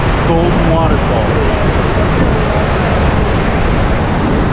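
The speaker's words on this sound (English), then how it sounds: "So this is Gullfoss waterfall." Gullfoss waterfall in Iceland roars as a dense, constant wash of rushing water, loud and close, with a voice briefly heard over it near the start.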